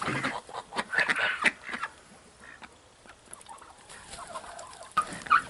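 Turkeys on a small hobby farm gobble in rough, rattling bursts, loudest near the start and again at the end, with a quieter stretch of farmyard noise between and no talk.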